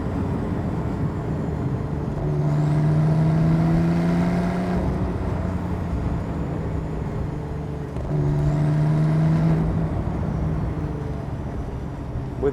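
Porsche 991.2 Carrera GTS accelerating in third gear, its engine note rising in two loud, sustained pulls with a steady road and cabin roar beneath.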